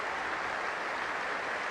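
A cricket crowd at Trent Bridge during a Test match between England and New Zealand, giving a steady, dense wash of applause that sounds distant and continuous, with no voices over it.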